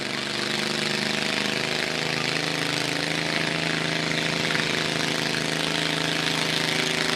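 A Wheel Horse garden tractor with a twin-cylinder engine runs at a county fair garden tractor pull, a loud, steady, close engine drone with a constant throbbing hum throughout.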